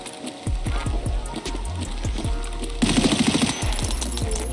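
Gunshots in Escape From Tarkov: close, punchy shots fired in quick rhythmic strings of several rounds, with a short pause and then a denser, louder burst of rapid fire.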